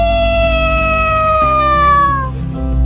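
A cat's meow, drawn out and tonal with a gently falling pitch, close and fairly loud, holding for over two seconds before trailing off over a low background hum.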